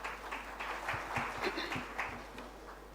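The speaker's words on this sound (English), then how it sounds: "Please give a round of applause to Ms." Faint, sparse clapping from an audience at an NPS Diwas 2025 function, with a few distinct hand claps ringing out over a quiet, slightly humming room.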